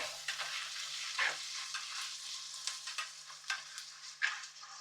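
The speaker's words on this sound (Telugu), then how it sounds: "సో, ఒక టేబుల్ స్పూన్ అల్లం వెల్లిపాయ పేస్ట్ వేస్తున్నా." A tablespoon of ginger garlic paste fries in a pan for a ridge gourd prawn curry, producing a fairly quiet, continuous sizzle dotted with light stirring clicks and scrapes.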